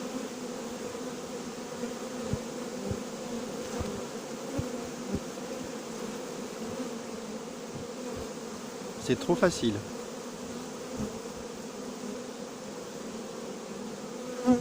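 Swarm of honeybees buzzing during hiving into a new hive on a farm, a steady droning hum with scattered louder passes close by, and a brief spoken remark midway.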